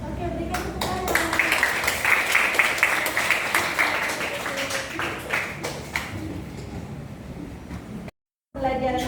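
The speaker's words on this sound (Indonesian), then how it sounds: "berikan tepuk tangan" A classroom group claps together in a sustained burst of applause lasting several seconds, then it thins out into scattered claps, heard under a teacher's voice.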